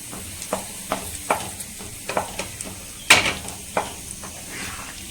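A spoon stirs beetroot and moong dal kootu with a handful of coriander in a hot pan, giving a run of sharp, close scraping strokes over a light sizzle, with one louder clack partway through and no talking.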